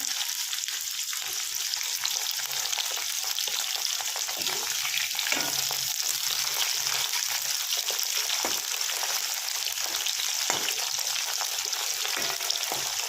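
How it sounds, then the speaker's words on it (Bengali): Okra frying in a pan for a coconut okra dish, a dense continuous sizzle with light crackling and occasional utensil scrapes, steady and close, no talk. "দেখো এই ভেন্ডিগুলো কিন্তু মোটামুটি ভাজা হয়ে গেছে আমি লাল লাল করে ভেজে নিয়েছি"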